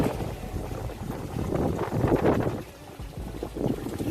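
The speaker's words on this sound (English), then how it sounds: "It's an extremely windy day out here today" Strong gusts buffet a microphone outdoors on an extremely windy day, a loud, rough, continuous rumble that surges and eases with no talking.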